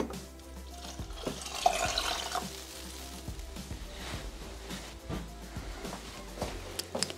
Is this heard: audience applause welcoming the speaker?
no